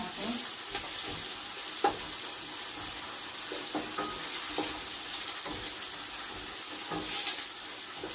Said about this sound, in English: So now while the onions is frying